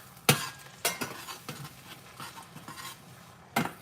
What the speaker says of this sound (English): Add the eggs, scramble the eggs.